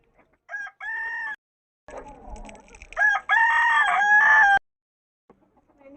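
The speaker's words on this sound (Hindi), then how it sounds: "ये हमारे जो ऑस्ट्रेलो मुर्गे हैं इन्हें निकालना है बाहर" An Australorp rooster crows loudly nearby, a short call followed by a longer, drawn-out cock-a-doodle-doo, with quiet gaps around them.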